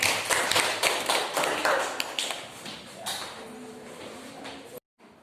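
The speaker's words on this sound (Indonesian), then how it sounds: "tepuk tangan untuk kelompok 4" Students in a classroom clap for a presenting group, a sparse run of separate, fairly close hand claps that thin out and stop abruptly near the end.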